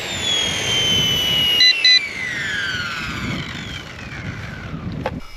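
A small RC ERA UH-1 model helicopter comes in to land, its steady high-pitched rotor and motor whine sweeping downward in pitch, with gusty wind buffeting the microphone throughout and a brief bump near the end.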